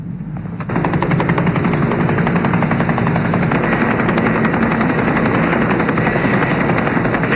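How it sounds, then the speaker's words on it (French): A helicopter arrives and its rotor chop swells in suddenly after a quieter start, then holds as a loud, rapid, steady thumping that fills the rest of the scene. "L'hélicoptère est là."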